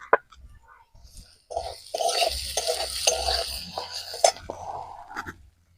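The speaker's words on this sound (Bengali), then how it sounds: "চালটা আমি এরকম 1-2 মিনিট এইভাবে ভেজে নেব" Rice being dry-fried and stirred in a pan for a fish-head muri ghonto, with scraping, rattling stirs and a soft sizzle close up and a few sharp utensil taps, and a voice speaking at times.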